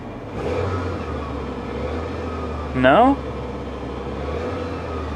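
A repossessed car's engine runs at a steady, elevated idle, oddly holding high RPM, with a low continuous hum, and a voice briefly speaks over it.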